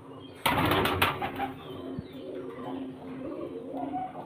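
Baby pigeons in a backyard loft coo repeatedly nearby, with a sudden burst of wing flapping near the start and fainter cooing and rustling continuing afterward, no talk.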